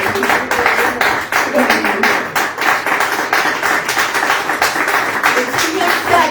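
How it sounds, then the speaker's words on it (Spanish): Church congregation applauding during a sermon, a dense, steady wash of many hands clapping close by for several seconds, with voices mixed into the crowd noise. "Denle un fuerte aplauso al Señor"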